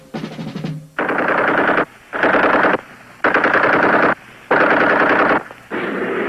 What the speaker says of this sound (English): The machine guns and modern artillery filled the air with flying metal